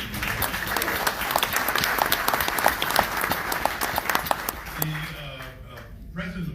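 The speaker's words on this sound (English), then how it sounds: "Just one big round of applause for the" Luncheon audience applauding for the NYPD at a Police Athletic League event, a dense steady wash of clapping from a large room that fades near the end as a voice begins.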